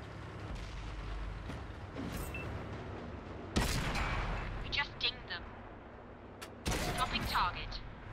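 Tank cannon fire in World of Tanks on PS4, a Cromwell B: two sharp cannon blasts a few seconds apart ring out over low engine rumble, with crew voices talking between shots.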